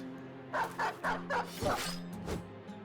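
In Battle Brothers, a war dog barks in a rapid run of five or six sharp yaps, close and fairly loud over steady game music, followed by a heavier impact and a last softer bark.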